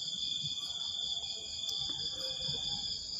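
Crickets chirp in a continuous, shrill, even chorus at an early-morning prayer time, fairly close and steady throughout, with faint low background noise beneath.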